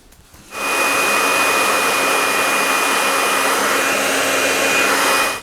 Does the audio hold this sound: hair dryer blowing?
yes